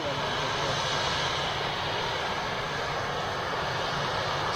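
An Etihad Airbus A380 jet passes overhead in a loud, broad, steady engine roar, with a voice talking faintly beneath the noise.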